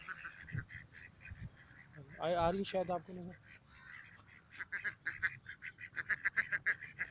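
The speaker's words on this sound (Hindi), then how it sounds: "बतखें बहुत हैं। ओ, देखिए मुझे देख के बोलना शुरू हो गया।" Ducks at a lake quacking loudly in a close, rapid series, with more quacks and honks nearby, while someone speaks over them.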